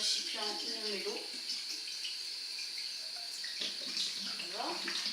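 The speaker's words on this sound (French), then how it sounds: "Donc on le rince à l'eau chaude" Hot tap water runs into a rabbit's water container as it is rinsed, a steady close hiss and splash with a person talking over it at moments.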